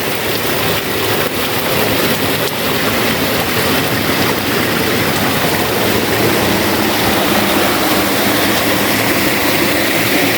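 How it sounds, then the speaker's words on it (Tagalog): Spring water from a natural source deep in a forest, partly enclosed in cement, pours in a steady, loud, continuous rush that fills the whole stretch without pause. "Ito ang nature na tubig. Bukal."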